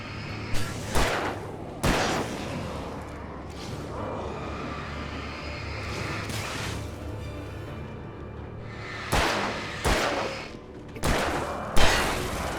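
Gunshots in the horror video game Alan Wake Remastered: several loud, sharp shots spaced irregularly, a pair early on, then a tighter cluster of three or four near the end, over a low droning game soundscape.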